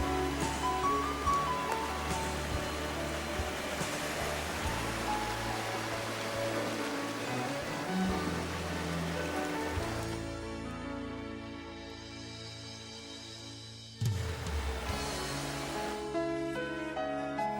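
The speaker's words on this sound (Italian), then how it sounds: "le goccioline che scendono dalle rocce" Water trickling and dripping down rocks beside the Galgera waterfall at Durlo di Crespadoro, a dense continuous splashing wash that thins and softens partway through before swelling again.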